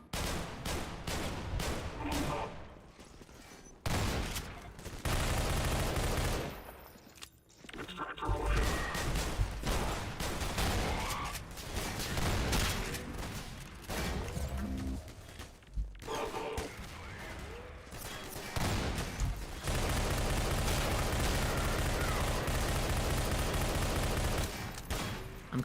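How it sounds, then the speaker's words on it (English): Dense gunfire in the video game Entropy: Zero 2 on a hard workshop map, blind firing in long loud bursts that overlap into a near-continuous fusillade, broken by a few short pauses. "I'm kind of just blind firing because I can't really see anything."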